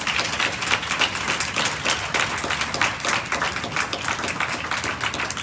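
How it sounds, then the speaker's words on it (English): Sustained applause from an audience honoring a government minister at a Bahamas crisis center event, dense steady clapping with no talk over it. "Let's give the Honorable Minister a round of applause."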